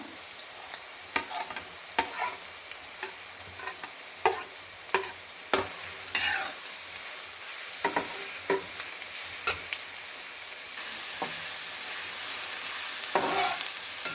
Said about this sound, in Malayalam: സവാള, വെളുത്തുള്ളി, ഇഞ്ചി എല്ലാം കൂടെ അരിഞ്ഞ് വെച്ചിരിക്കുന്നതായിട്ട് വഴറ്റിയെടുക്കാമേ.